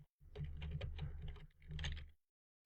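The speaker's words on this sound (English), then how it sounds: "So if I just type some random hexadecimal numbers and letters" Keys on a computer keyboard being typed in two quick bursts of close, soft clicking with a short pause between, quiet and alone.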